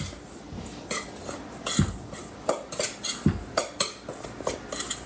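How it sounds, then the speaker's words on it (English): A spoon clinks and scrapes against a bowl while a dry spice rub for braised BBQ pork back ribs is mixed, giving irregular close taps that quicken toward the end, with no voices. "Now I'm gonna mix it just in the bowl with a spoon."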